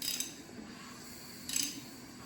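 A 465 FE tunnel port engine is turned over slowly by hand, giving two brief metallic ratcheting clicks separated by a quiet pause, faint and close.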